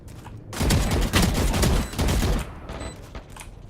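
Gunfire from shooting in a video game, a dense burst of loud, rapid shots that fades out after about two seconds, followed by a few scattered quieter shots.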